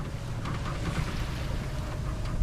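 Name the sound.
sailboat sailing under head sail in the wind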